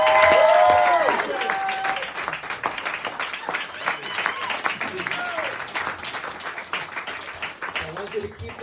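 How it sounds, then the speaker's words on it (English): Audience applause and cheering fill a comedy club at the close of a stand-up set, loud at first with a few voices calling out, then settling into steady sustained clapping. "keep that round of applause going for a friend of mine"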